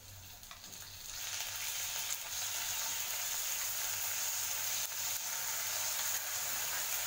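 Green chillies with curd frying in oil in a pan, a continuous even hiss and sizzle that starts softer and swells after the first second, then holds steady and close.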